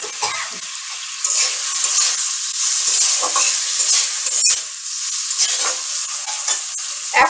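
Fried figs being stirred into sizzling spices in a pan for a vegetarian fig curry, giving steady close frying crackle with scraping stir strokes throughout, no talking.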